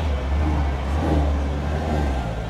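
A car pulls away and accelerates, its engine note rising steadily as a low rumble under a broad hiss of road and motor noise, close and fairly loud throughout.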